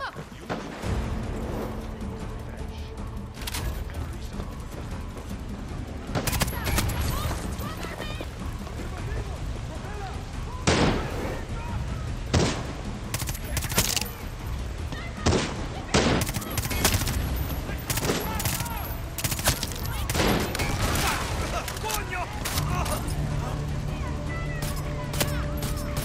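Video game gunfire in Far Cry 6 crackles throughout a combat scene, with scattered sharp shots and bursts over a constant rumbling background, while a player talks at times.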